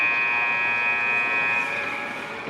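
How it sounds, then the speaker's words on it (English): The end-of-period buzzer at an under-18 ice hockey game between the Blazers and the A1s blares as one loud, steady electric tone that holds for a couple of seconds before easing off slightly. "At the buzzer."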